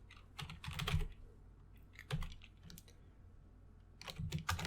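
Bursts of typing on a computer keyboard, quick clusters of key clicks separated by short pauses, close and fairly quiet, while Python code for sending an email with SMTPlib is entered.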